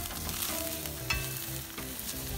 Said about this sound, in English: Our burgers have been on for about 6 minutes. Let me just give them a flip.